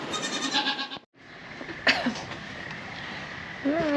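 Goats bleating on a farm during heavy rain and flooding at milking time, several wavering calls, one loud and close near the start, another rising call at the end, over a steady background wash.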